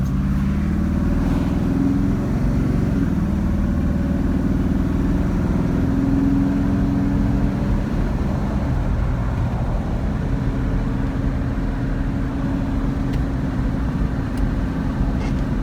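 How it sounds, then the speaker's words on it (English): A 1973 Chevrolet Chevelle Super Sport on the road, its engine a continuous low rumble from inside the car, holding a fairly even pitch with small shifts in load throughout. "I'm going to do a driving video of my mom's beautiful 73 Chevelle Super Sport"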